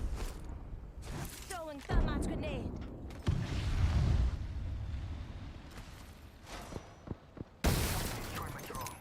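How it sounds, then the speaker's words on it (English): A thermite grenade is thrown in a video game firefight: sharp shattering bursts near the start and end frame a stretch of crackling, rumbling game noise, with voices heard in places. "Throwing thermite grenade"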